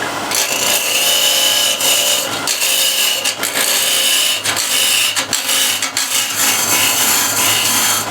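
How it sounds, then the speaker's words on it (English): A skew chisel cutting a wooden tenon on end grain during spindle work on a lathe, a steady loud scraping rasp of the edge riding the spinning wood, with brief dips where the tool lifts away. "I'm going to use a skew to rub this down."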